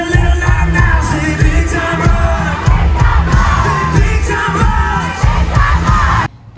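A loud concert crowd at a show keeps up a continuous roar of cheering and chanting with yells and shouts, dense and sustained before cutting off abruptly near the end.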